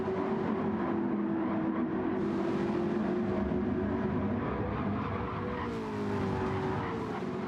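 Race cars at Fuji International Speedway in Gran Turismo 7 hold a dense, loud engine drone with layered tire squeal and skidding. A wavering tonal whine bends in pitch near the end.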